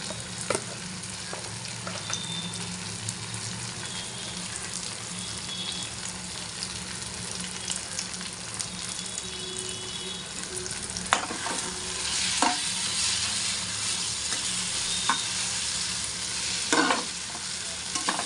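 Dry chili powder sizzles in hot oil in a pan for a prawn and taro stolon dish, a continuous close frying hiss with scraping stirs and clinks scattered through, no talk.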